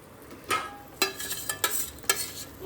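Chinese-style egg with tomato, onion and chillies cooking in a pan, a quiet sizzle broken by four or five sharp scrapes and clinks of a spatula stirring at a loose, irregular rhythm.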